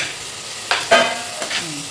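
Hot oil sizzles steadily as eggs are added to a spicy masala, a few quick stirring scrapes cutting through, close up, with no voices.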